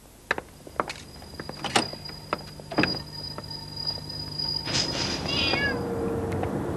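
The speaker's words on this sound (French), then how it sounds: "On dirait que les chats du coin sont bien installés." Neighbourhood cats meow several times in a French 1989 film, starting with knocks and thumps, then a rising, wavering meow toward the end over a steady background hiss.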